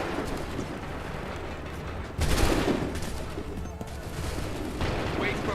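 Gunfire volleys in the video game Assassin's Creed III, a dense, loud rumbling fusillade with a sharp burst of shots midway and another toward the end, under game ambience.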